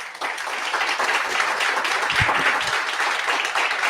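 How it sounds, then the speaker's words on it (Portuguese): A church congregation claps together in praise, a broad wash of many hands at moderate loudness that holds steady for a few seconds with no speech on top. "Dê um aplauso a Jesus, aleluia"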